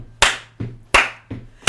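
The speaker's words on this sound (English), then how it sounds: "you got to get your clap on" Five loud, close hand claps in a slow, even alternating beat, one sharp strong clap then a softer one, as an audience claps along to a song; a faint steady hum sits underneath.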